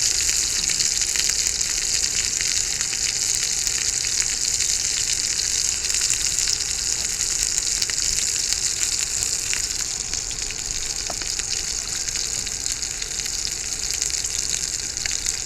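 Potatoes fry in Blue Bonnet butter in a cast iron skillet on a grill, an even, unbroken sizzle heard up close for the whole stretch, with no speech.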